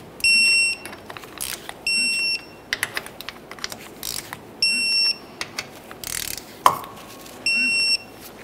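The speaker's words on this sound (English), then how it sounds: "we can start torquing all of our mounting bolts" A torque wrench tightens the rear axle cover mounting bolts on a 2001-2005 Ford Explorer Sport Trac to 30 foot-pounds, with repeated electronic beeps, rapid ratchet clicks and a sharp metallic click near the end.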